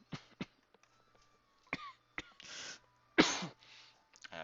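A sick person coughs in several short, harsh bursts with quiet gaps between them, close to the microphone, including a couple of heavier explosive coughs.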